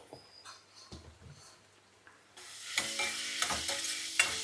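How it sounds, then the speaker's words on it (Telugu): Chopped onions fry in tempering oil in a pan while flat beans are being cooked. A soft, quiet stretch gives way to a louder, steady sizzle with stirring clatter, and no one speaks. "ఉల్లిపాయలు మంచిగా వేగనివ్వండి"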